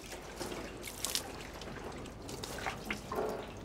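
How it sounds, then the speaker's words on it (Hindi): Running tap water trickling and splashing while dishes are scrubbed clean, with occasional clinks and drips, close and moderately loud with no talking. "लवलीन तू बर्तन मांजते हैंडसम लगता है।"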